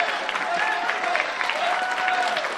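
A closing-ceremony crowd gives Blitz a sustained round of applause, many hands clapping in a steady, close wash with a few cheers and voices mixed in.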